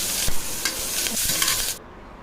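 Onions and green chillies fry in a pan with a bright, steady sizzle, broken by a few soft stirring knocks before the sound cuts off abruptly near the end.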